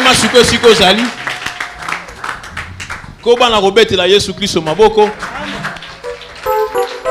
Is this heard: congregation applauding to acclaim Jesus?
yes